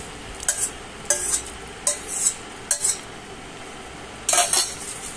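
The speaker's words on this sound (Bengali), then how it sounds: "এবার আমি এই ম্যাগিটা যে সিদ্ধ করে রেখেছিলাম সেটা আমি এর মধ্যে দিয়ে দেবো" Boiled Maggi noodles are tipped into a pan and stirred, with a utensil scraping and clinking against the pan in about five short, fairly loud bursts separated by quiet pauses, and no talking.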